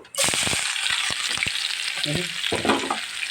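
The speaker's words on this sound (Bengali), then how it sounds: "এখন আমি পেঁয়াজ কুচি দিয়ে দেব" Chopped onion hits hot oil with cumin in a pot, bursting into a loud, steady sizzle with scattered crackles and stirring clatter throughout.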